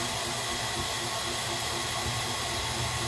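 Hair dryer blowing hot air on a pet makes a loud, steady broadband whoosh that runs continuously and close, with no pauses.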